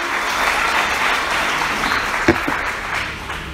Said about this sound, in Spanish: Vamos, alguien aplauda a Jesús.